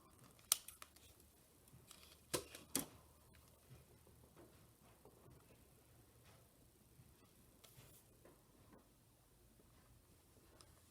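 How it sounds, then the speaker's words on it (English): Scissors trim wire on a handmade craft wand, giving a few faint, sharp snips and clicks against a quiet room. "I'm going to trim that off carefully so that I don't accidentally trim the glue"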